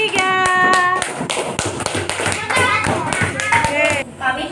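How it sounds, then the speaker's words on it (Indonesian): Classroom applause for a student group after a presentation, a burst of claps from many hands with a voice speaking over the clapping. "Tepuk tangannya meriah untuk kelompok 3."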